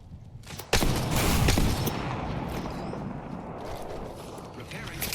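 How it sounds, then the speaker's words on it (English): Sustained gunfire in a squad-based video game firefight after a grapple and squad wipe, a sharp burst followed by continuous dense shooting and rumble. "I am taking fire, friends."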